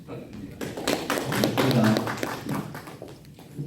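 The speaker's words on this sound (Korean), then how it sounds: "큰 박수 부탁드립니다" Audience applause at a regional civic-education forum in Jeonbuk, Korea, scattered taps and claps heard beneath voices talking nearby, moderately loud, swelling in the middle before easing off.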